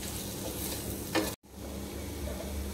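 Spice powders of cumin, coriander and Kashmiri chilli being stirred and fried in a pan for a ghevda bhaji, a steady close sizzle with scraping stirs and one brief dropout midway.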